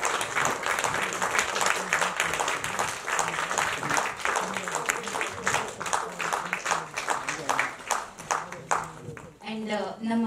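Audience applause at the first-look poster launch of the Kannada film Chowkabara, a dense burst of many hands clapping that runs steadily for about nine seconds, with a brief different sound at the very end.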